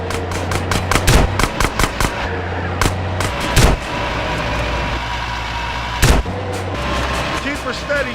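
Gunfire in the video game GTA San Andreas, set during a tanker truck chase mission: repeated sharp shots and bursts crack loudly over a steady engine drone, with game characters speaking in between.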